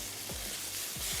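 Vegetables for Singaporean rice noodles sizzle and fry in a pan while a spoon stirs them, a steady loud hiss of frying with a few short scraping sweeps of the utensil across the pan.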